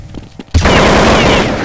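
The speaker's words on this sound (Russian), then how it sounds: "Да что за стрельба" In a video game, a sudden loud burst of gunfire erupts after a brief quieter moment and keeps going as sustained, dense shooting that fills the rest of the moment.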